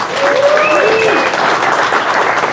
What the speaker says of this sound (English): a big round of applause to all the presenters, especially Thomas